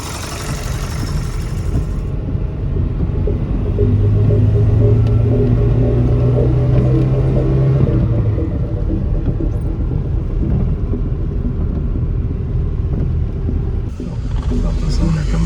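A car engine idling roughly with a misfire and a missing cylinder while the check engine light flashes, a loud steady low rumble that continues without a break.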